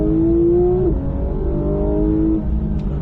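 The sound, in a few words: car accelerating hard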